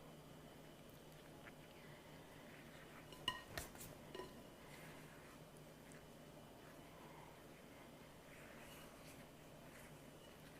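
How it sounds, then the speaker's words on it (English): Cake batter with nutmeg being gently stirred in a bowl, heard as a few faint, quick clinks of the utensil against the bowl in a quiet kitchen, then soft low background noise. "And so now I'm just going to gently stir this at first."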